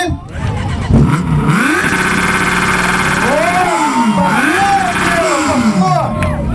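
A 600 cc motorcycle with a loud exhaust fires up and is revved hard in a loudest-exhaust contest, the engine barking through repeated rising and falling revs, very loud and close.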